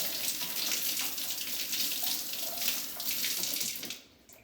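Sprayer parts rinsed under a running tap, a steady broadband rush of water splashing into a sink that holds evenly for about four seconds, then cuts off abruptly into near silence.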